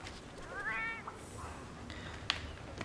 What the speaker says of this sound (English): So right now I'm running with 2 Palicos, which are the cat-like creatures.